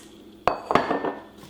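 Soft, smooth bread dough for Armenian matnakash flatbread drops into a greased bowl, giving two close knocks against the bowl followed by a short rattling clatter, then quiet.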